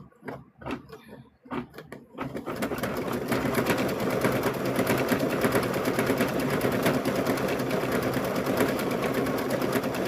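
An embroidery sewing machine stitches a stuffed bear, starting after a few soft clicks and then running in a steady, fast, rattling hum that continues loudly to the end.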